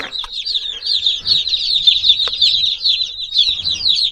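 A crowd of fifty day-old meat chicks peeps constantly, dense overlapping high chirps filling the whole stretch, loud and close with no talking.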